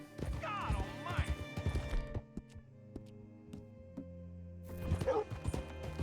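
Horse hooves clip-clop in a steady walking rhythm in the Western video game Red Dead Redemption 2, close and clear, as a dog barks nearby and voices talk over it.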